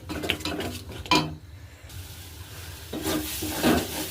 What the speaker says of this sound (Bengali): ফেটানো ডিমটা সুন্দর করে এর সাথে মিশিয়ে নিতে হবে